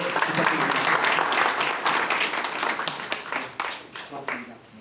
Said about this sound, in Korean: 여러분들 박수 한번 더 부탁드립니다.